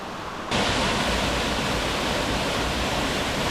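Small waterfalls tumble along a creek in the Upper Buffalo Wilderness, a steady, loud, broadband rush of falling water that surges in after a brief quieter moment and then holds constant and close.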